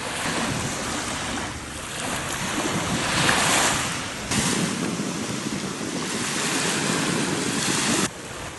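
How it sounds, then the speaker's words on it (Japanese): Steady roar of ocean surf washing onto a beach at Saka, Hiroshima, Japan, with swelling waves and some wind buffeting the microphone; no voices. "波音"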